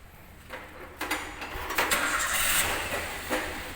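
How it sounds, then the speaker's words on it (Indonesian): A car engine runs unevenly at idle with the cylinder 1 injector disconnected, its rumble stumbling with irregular surges and dips, close by with no talking. "putaran mesin itu akan terasa atau kita dengar tidak seimbang karena memang injektor pada silinder nomor 1 kita lepas"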